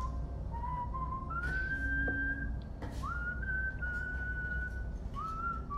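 A game character in Far Cry 5 whistles a slow, calm tune, with several long sliding notes and held pitches set against a low ambient rumble, fairly close and clear.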